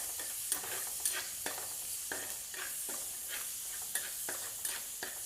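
Ginger, garlic, shallots, tomato and green chili are sautéed in a pan for a fish curry in coconut milk. A steady, quiet sizzle runs throughout, with a utensil scraping and tapping the pan at rhythmic intervals and no talk.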